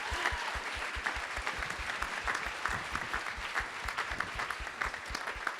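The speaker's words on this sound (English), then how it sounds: "Would you give him a round of applause, please?" Audience applause at a 2014 centenary summit on youth engagement, a steady dense wash of many hands clapping that holds evenly and fairly close for several seconds with no talk over it.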